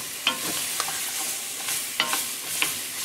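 Trinity vegetables stirred into a dark roux in a gumbo pot, a steady sizzle with a few scraping strokes of the spoon standing out, close and alone without talk.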